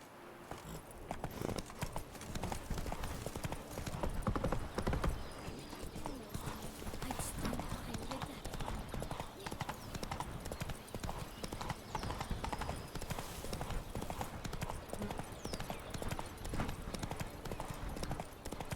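Roach the horse in The Witcher 3: Blood and Wine trots with a steady, continuous clip-clop of hooves, close and clear, with faint speech here and there.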